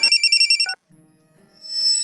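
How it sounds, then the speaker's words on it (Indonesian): A telephone rings with a quick electronic trill of repeated pulses, loud and close, then cuts off, followed by a faint low murmur and rising hiss. "Bos, telepon."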